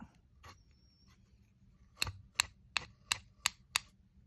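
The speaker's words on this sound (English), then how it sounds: "Let me see if the scissors will work." Scissors blades working on dried paint splatter on a paper collage, six sharp scraping ticks in an even rhythm, close and crisp after a faint earlier touch, in a quiet room.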